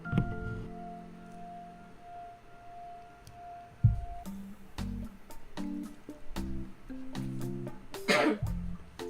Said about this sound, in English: Cough reveal.